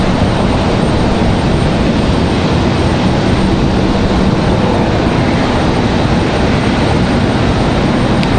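A JetBlue jet takes off from Raleigh-Durham International Airport bound for JFK, producing a loud, steady, broadband engine roar that fills the whole stretch with no pause and no talk.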